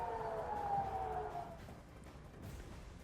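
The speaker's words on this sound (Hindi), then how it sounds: "आप देखिए कि ये युद्ध का सायरन भी बज रहा है" A war siren sounds in Israel during Iranian counterattacks, a sustained wailing tone that holds steady and then fades away into background noise.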